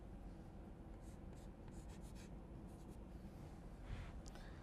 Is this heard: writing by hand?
yes